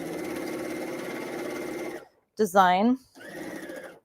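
A sewing machine stitches a paper pieced kimono tea cozy with a close, steady mechanical whir that stops abruptly, then a brief spoken word, then the machine runs again.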